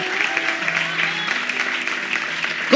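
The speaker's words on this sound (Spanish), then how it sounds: "A ver, un aplauso para la Katy que nos vino a visitar." Church congregation claps for a visitor, a lively burst of applause with talk and a voice carrying over it throughout.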